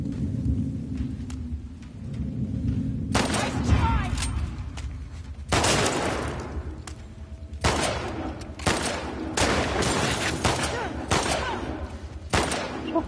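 Gunfire rings out in the video game The Last of Us Part II, with heavy bursts of shots and sharp blasts that come in clusters between stretches of low rumbling ambience, loud and close.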